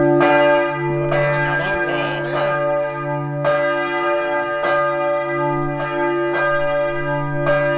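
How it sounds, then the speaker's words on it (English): Heavy church bells in the belfry tower of Vilnius Cathedral ring out loud and close, long resonant strikes layered over each other with a sustained humming decay. "You can manage to go at the top of the tower and hear the bells."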